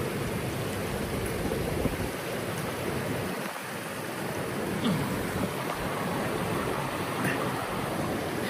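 Flowing stream water rushes in a steady, unbroken outdoor wash, close and fairly loud, blended with some wind noise in the open countryside.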